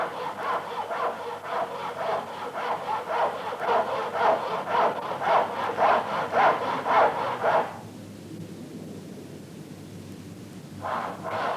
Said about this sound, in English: sawing down to the marking gauge line.